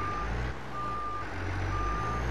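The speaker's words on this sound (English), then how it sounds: "Did I have the beeping option on here?" A New Holland T8 tractor in the video game Farming Simulator 22 sounds a reversing alarm, three evenly spaced electronic beeps over a steady low engine rumble.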